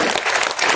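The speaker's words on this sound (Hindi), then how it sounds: "आदरणीय रमेश विधुड़ी जी, एक बार जोरदार ताली बजाकर अभिनंदन करेंगे।" A brief burst of dense crowd applause at an Independence Day public event in New Delhi, welcoming MP Ramesh Bidhuri to the stage; loud and continuous for under a second.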